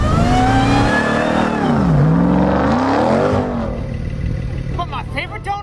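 Loud Dodge car engine revving hard with rising and falling pitch while spinning donuts, a voice talking over it, then the engine note fades into tyre and rumble noise near the end.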